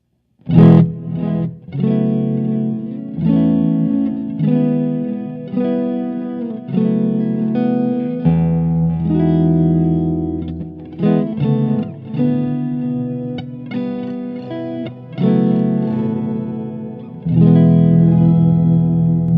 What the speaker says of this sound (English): I love that octave above, octave down thing